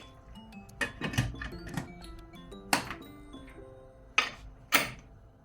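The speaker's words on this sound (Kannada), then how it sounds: "ಈಗ ನಾನು ಕುಕ್ಕರ್ನ ಬಾಯಿ ಮುಚ್ಚಿ" A pressure cooker holding mutton is shut with its lid, giving several sharp metallic clanks and clicks spread irregularly, close and loud against a quiet background.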